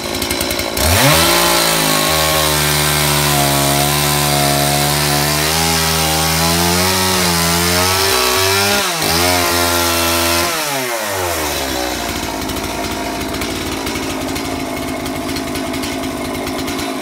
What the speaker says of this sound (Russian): разобрали полы, начали пилить доску.